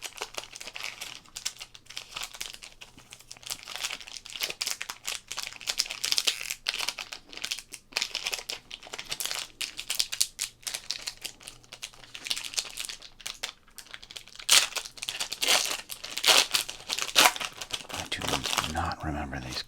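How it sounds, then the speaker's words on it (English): A 1992 football card pack wrapper is crinkled and torn open, with close, loud, continuous crackling and sharp ripping bursts throughout, rising toward the end as a voice talks over it. "We're going to crinkle and rip here."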